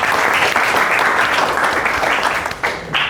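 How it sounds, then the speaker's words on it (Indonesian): Classroom applause for a student named Raka, a room of pupils clapping together loudly and close, a steady wash of claps that eases and tapers off toward the end. "Tepuk tangan untuk Raka."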